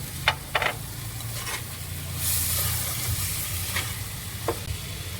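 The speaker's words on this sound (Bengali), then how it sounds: "এখন তেল ছেড়ে দিয়েছে এখন ভাজা আলুগুলো আমি আগে থাকতে দিয়ে দিচ্ছি" Fried potatoes go into hot, spiced oil for a chicken curry with ajwain and kalonji, producing a steady close sizzle that surges into a louder hiss partway through, with a few scattered clinks of stirring.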